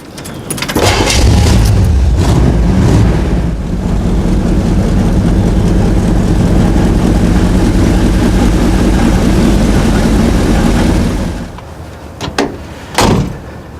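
A 1964 Chevy in a garage starts up and runs as a loud, rumbling engine for about ten seconds, then cuts out, followed by a couple of sharp door-like thumps.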